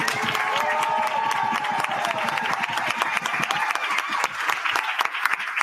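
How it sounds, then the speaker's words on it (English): A live audience at a Dream Deferred conference in New York City bursts into loud, steady applause with scattered cheers, dense clapping filling the room continuously without a break. "Can we clap for that"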